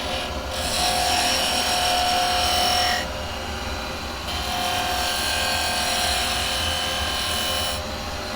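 A wood lathe spins steadily while a carbide chisel shapes a bead, giving a constant motor whir under scraping, rasping cuts that come and go in passes.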